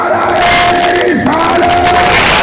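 A large gathering at a religious sermon roars back a slogan in unison, loud and close, a thick wall of massed voices with one sharp swelling shout partway through over a constant crowd din.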